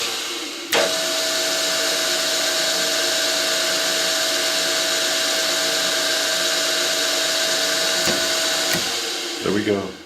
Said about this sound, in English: That's the 3 millimeter threads